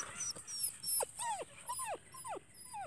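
Several high, thin puppy whimpers and squeaks in a rising-falling pattern, close by, repeating every half second or so over a soft background.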